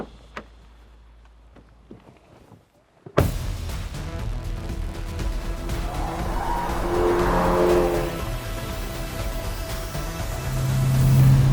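A 2024 Hyundai i30 Sedan N (Elantra N) is driven hard on a race track. After a quiet start, a loud, steady engine roar builds and rises, with tire noise and no talking.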